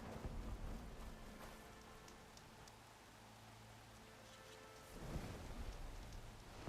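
Steady rain falls on surfaces in the video game Horizon Forbidden West, a dense hiss with scattered drops. Low thunder rumbles beneath it, and a louder rumble swells near the end. The whole scene is faint and has no talk.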